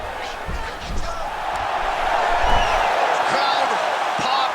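A large arena crowd in the UFC 5 fighting game roars and swells steadily, a loud, sustained wall of cheering with a few dull impacts underneath.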